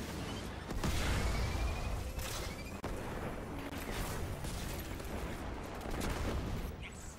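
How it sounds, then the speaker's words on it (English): Explosions and gunfire in the video game Destiny 2 form a continuous, fairly faint barrage of rattling shots and dull booms that keeps going for the whole stretch. "We felt those explosions from here"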